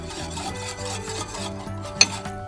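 Matcha powder and sugar whisked in a bowl make a quick rhythmic scraping rasp, close and moderately loud, ending with a single sharp clink near the finish; no voices.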